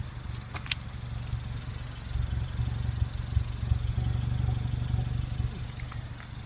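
A Peugeot 308 GTI engine idles with a steady low rumble and a light mechanical clatter, running continuously and fairly close with no talking.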